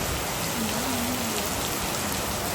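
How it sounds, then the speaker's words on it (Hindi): Heavy rain pours steadily outdoors during a visit to the Bibi Pak Daman shrine, a dense, even hiss of drops hitting surfaces that continues without a break. "बहुत ज़्यादा बारिश है, वो उधर बहुत ज़्यादा लग रही है।"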